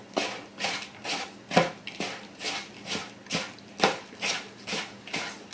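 Fingers work a pecan and Parmesan crumb topping into melted butter in a bowl, a steady rhythmic series of soft crunchy rustles and scrapes repeating about twice per second, close and alone.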